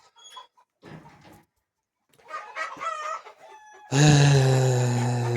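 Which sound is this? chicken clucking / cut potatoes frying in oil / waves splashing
chicken clucking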